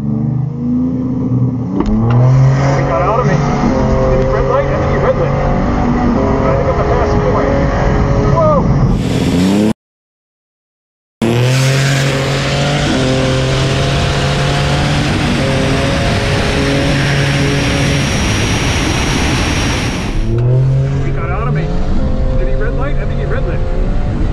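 Turbocharged cars drag racing against a Tesla Plaid, loud sustained engine roar with rising pitch as they accelerate, a brief dropout midway, then another long powerful run under faint background sound.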